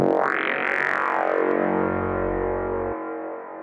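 A single filtered, distorted hardstyle kick drum hits with a bright pitch-sweeping attack, then rings out in a long, buzzing low tail that cuts off after about three seconds, alone and loud.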